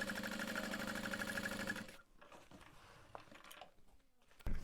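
A sewing machine runs steadily for about two seconds while basting the center of a sewing project, a rapid mechanical whir, then stops, leaving faint handling clicks and rustles.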